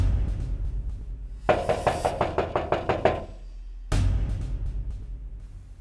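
A door is knocked on in a domestic setting, a quick run of about eight firm raps in a steady rhythm, close and clear over a low background hum.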